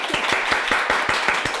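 An audience applauds to welcome a guest doctor on a Mexican talk show, a quick run of sharp, evenly spaced claps that sound close and fairly loud, with no clear cheering.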